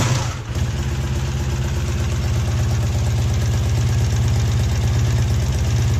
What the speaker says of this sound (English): Just turn on the bike and then start it.